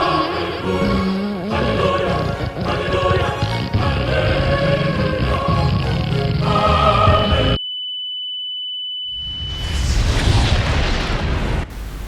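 A dense, loud rumble of noise suddenly cuts to silence with a lingering high ringing tone, then a broad blast of noise bursts in and roars on.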